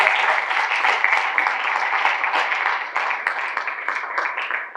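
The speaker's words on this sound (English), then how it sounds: "Please another round of applause for him" Another round of applause rises from a conference audience at a leadership forum honoring a managing director, a bright, busy mass of clapping from many hands that stays strong and close throughout.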